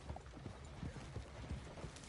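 Horse hooves galloping in Red Dead Redemption 2, a steady rapid thudding rhythm of hoofbeats over continuous wind-like noise, moderately loud and close.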